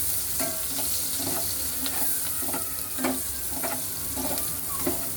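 Curry leaves frying in hot oil in a pan for chicken curry: a continuous, close sizzle with repeated light scraping stirs at a steady rhythm, no voices.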